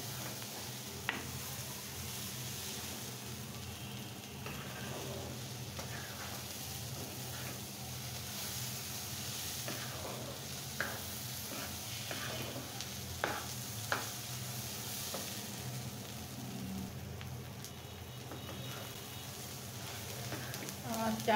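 Rice and tomato fry in a pan, giving a steady sizzle with scattered clicks and scrapes of stirring throughout.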